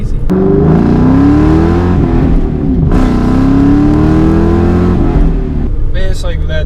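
A 2010 Volkswagen GTI engine revs up and accelerates from inside the cabin, a loud sustained drone with rising and falling pitch sweeps and a brief gear-shift dip, while a person talks over it.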